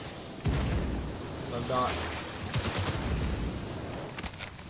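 Point-blank grenade blasts in Titanfall 2 hit as a loud burst of rumbling booms and crackling debris, with someone talking over the explosions.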